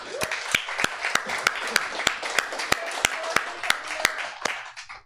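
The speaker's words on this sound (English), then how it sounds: "So can we give a round of applause to Beyond Baroque?" A small audience at a poetry reading and open mic claps, with sharp separate hand claps in an uneven rhythm and a voice talking faintly underneath.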